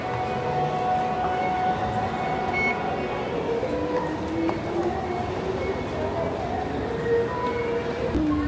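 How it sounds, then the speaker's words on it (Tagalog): MRT train at Tampines station in Singapore, a steady rumble with tonal whine and beeps through a busy station, chatter in the background. "Yan na ang MRT yan."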